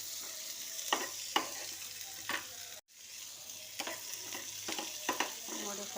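Soybean pods frying in a pan for an Uttara Karnataka dish, with a steady close sizzle and stirring clatters that repeat every second or so. Nobody talks.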